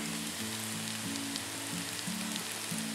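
Carrots and beans sauté over high heat for veg fried rice. The pan gives a steady, fairly soft sizzle throughout, with a faint low hum underneath.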